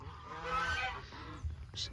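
Geese honk in a short, noisy flurry as a pet emu chases them around a Texas ranch yard, several overlapping calls close by with a brief louder burst near the end.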